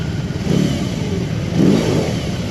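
A 2022 BMW R18B motorcycle's big boxer engine revs twice in quick succession, each deep throttle blip swelling and falling back to a rumbling idle, close and loud throughout.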